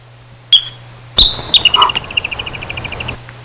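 A yellow-bellied marmot gives a sharp, high alarm whistle, then after a brief pause a second whistle that runs into a rapid trill of repeated chirps that slowly fades. Faint low breathing sits underneath.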